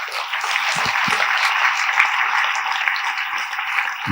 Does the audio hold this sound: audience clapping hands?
yes